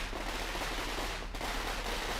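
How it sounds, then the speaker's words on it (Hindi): Fireworks and firecrackers burst at a Congress party celebration in Chhattisgarh marking a candidate announcement. They make a dense, continuous crackling barrage of rapid pops with no pauses. "ये आतिशबाजी की तस्वीरें आप देख"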